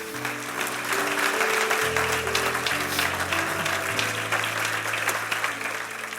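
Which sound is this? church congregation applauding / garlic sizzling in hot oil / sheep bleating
church congregation applauding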